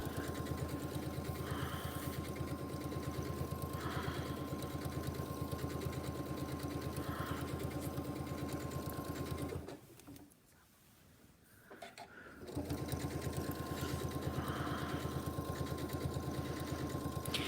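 A sewing machine stitches with a steady, close motor hum that stops for about two seconds midway, then resumes at the same even pace.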